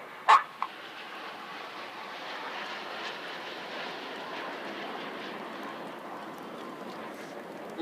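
A jet aircraft at the Blackpool air show passes at a distance, a steady broad roar holding fairly constant, preceded by a short sharp bark-like sound near the start.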